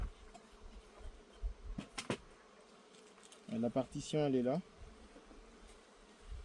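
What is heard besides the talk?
honey bees buzzing at an open hive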